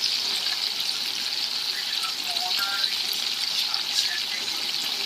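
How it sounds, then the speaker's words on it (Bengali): Marinated bhola fish frying in oil gives a steady, close sizzle that holds evenly throughout, with faint scattered pops and light kitchen clatter on top. "ভাজা হচ্ছে।"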